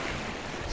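Sea surf and wind at sunset by the shore, a steady broadband wash of waves with wind buffeting the microphone, continuous and fairly loud with no talk.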